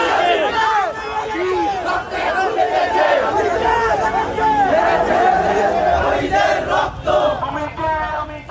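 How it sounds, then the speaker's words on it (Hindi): A large angry crowd in a Bangladesh street, carrying sticks, hammers and clubs, roars and chants continuously, with many overlapping raised voices and shouts filling the scene loudly from start to finish. "ये लाठी डंडे हथौड़े लेकर किसका सर फोड़ने निकली है ये भीड़?"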